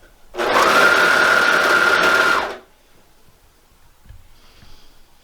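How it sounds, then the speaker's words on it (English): A serger overlock machine stitches a shirt seam on a raglan sleeve shirt in one loud, even whirring run of about two seconds, then stops, followed by quiet handling. "I'm going to take this and serge that seam."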